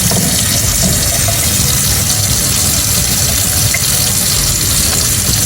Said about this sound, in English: So we're gonna do hand washing, okay?